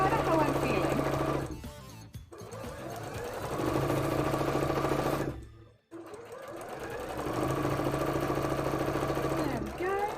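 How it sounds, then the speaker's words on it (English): Sewing machine stitching fabric pieces together for a custom mannequin, with three steady mechanical runs separated by short pauses, loud and close. "I think I'm going to sew quite a few pieces together before we start flattening them"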